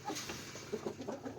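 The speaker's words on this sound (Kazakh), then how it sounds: "австралиялықтың тауықтары." Australorp hens cluck softly in a backyard poultry flock, a few short irregular clucks close by over a quiet background.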